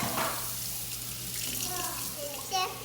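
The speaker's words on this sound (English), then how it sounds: "I'm washing the dishes." Water runs steadily from a kitchen sink tap while dishes are washed after baking banana bread, a close, continuous splashing stream with a little clatter near the end.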